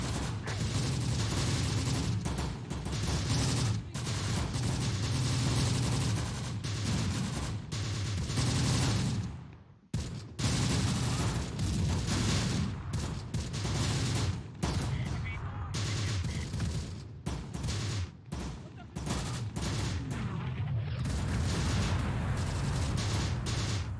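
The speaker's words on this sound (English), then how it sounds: "As soon as this mortar strike is over, I'm gonna go ahead and get these guys up on his ridge." Mortar strike in Close Combat: The Bloody First on the Tine Valley map, heavy booming impacts and crackling gunfire rolling almost continuously for over twenty seconds, with brief lulls and a voice talking underneath.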